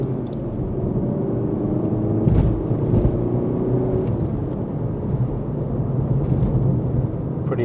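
A Mk7 VW Golf GTD launches hard with its front wheels slipping, giving a loud, continuous engine roar and rumble from inside the car that holds steady without any talking.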